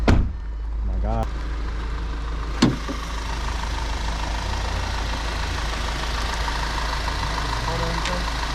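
A 2014 Audi A5 B8.5 with an AWE Tuning exhaust, before a downpipe, idles with a steady low rumble close by, a short rev blip partway through, and people talking over it.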